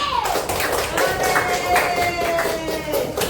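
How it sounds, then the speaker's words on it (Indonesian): Classroom clapping as students applaud each other's presentations, a lively burst of hand claps mixed with a tonal sound and voices over the top. "Tepuk tangan semuanya."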